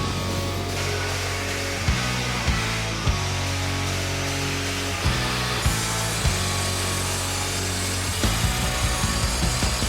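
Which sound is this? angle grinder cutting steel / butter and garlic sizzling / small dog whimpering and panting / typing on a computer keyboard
angle grinder cutting steel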